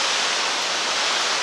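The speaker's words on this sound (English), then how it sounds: "We've now seen two waterfalls at this gorge." Steady broadband rush of a waterfall in the Letchworth State Park gorge, an even, unbroken roar with no voices over it.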